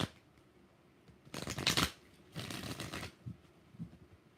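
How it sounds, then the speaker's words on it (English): Tarot cards being shuffled by hand in two distinct bursts of riffling, each about a second long, fairly quiet and close, with a low background hum and no talking. "Three more shuffles."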